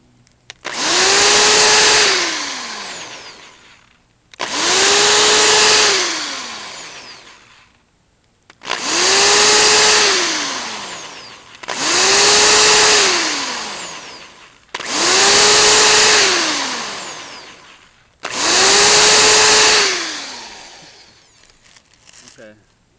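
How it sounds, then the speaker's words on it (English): A power drill bores into a metal dance pad's control board in six separate bursts of roughly two to three seconds each, with short pauses between them. Each burst whines up to speed and winds down, loud and close. "So I'm drilling it off to the side"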